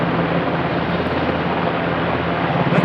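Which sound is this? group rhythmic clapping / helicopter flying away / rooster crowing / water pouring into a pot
helicopter flying away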